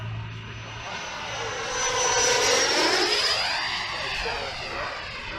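A Freewing Thunderbird 90mm EDF RC jet flies past with a steady whooshing whine that swells and shifts pitch as it passes overhead, sustained at moderate volume outdoors.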